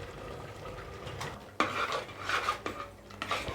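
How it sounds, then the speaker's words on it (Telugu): Gongura paste being stirred into goat intestine (boti) curry in a pot, with a spoon clinking and scraping against the metal in uneven strokes over a faint background sizzle. "గోంగూర మిశ్రమాన్ని వేసుకొని బాగా కలుపుకోవాలండి"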